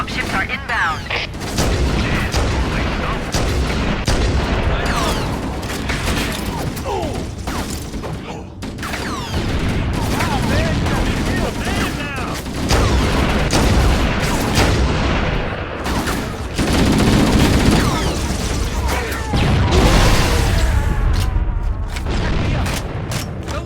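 Stationary Covenant guns in Halo CE Anniversary fire in dense, continuous bursts with booms and mechanical clatter, loud and relentless, mixed with game voices shouting throughout.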